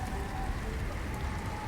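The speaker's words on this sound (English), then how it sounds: "That's hailing." Hail falls in the video game Subnautica Below Zero, a dense, steady patter of pellets striking surfaces, continuous and fairly close, with no voices.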